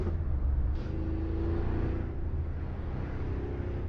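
A car engine in a racing video game revs and drones in a steady low rumble, a continuous loud whir with no clear peaks, alone.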